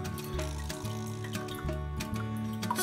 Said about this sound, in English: I'm just gonna be straining the lamb juices from the Instant Pot.